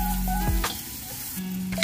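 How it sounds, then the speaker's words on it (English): Mushrooms frying in a pan for a Filipino beef steak Tagalog, a steady close sizzle with a couple of brief stirring clatters and no talk. "i-fry ko muna to yung mushroom"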